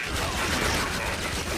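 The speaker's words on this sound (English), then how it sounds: "I just hit them all with that Gatling gun." Nathan Drake's Gatling gun in PlayStation All-Stars Battle Royale, a dense continuous mechanical rattle of rapid fire lasting a second and a half, loud and unbroken.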